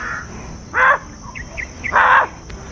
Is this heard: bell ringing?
no